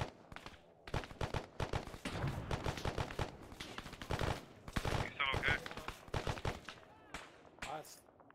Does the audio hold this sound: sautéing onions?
no